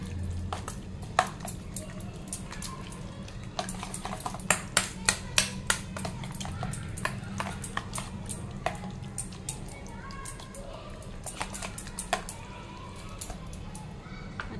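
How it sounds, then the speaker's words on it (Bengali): A honey garlic sauce is whisked in a bowl, with a spoon or whisk repeatedly clinking against the sides in quick tapping bursts over a steady low hum. "এটা ভালো করে আবারও মিক্স করে নেবো বা বিট করে নেবো"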